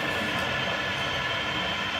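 Model railroad train on a layout's main line, a push-pull train propelled by a class 23 steam locomotive, giving a steady, continuous rolling rumble with faint track noise throughout, fairly close and with no talk.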